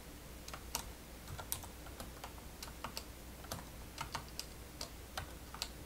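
Rapid, uneven typing on a computer keyboard, a steady patter of close, crisp key taps with occasional louder strokes, heard alone over a low background hum.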